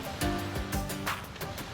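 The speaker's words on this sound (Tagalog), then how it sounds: "Makarinig yun ng hampas ng tubig" Sea waves splash against the shore near Jubail City in Saudi Arabia's Eastern Province, making soft repeated washes and bursts of surf at moderate distance.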